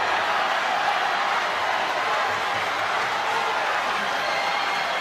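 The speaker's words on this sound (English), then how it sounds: "Disappointment from the crowd." Badminton crowd at a men's singles final of the All-England championships reacting with a steady, loud wash of murmuring disappointment throughout, dense and continuous with no single voice standing out.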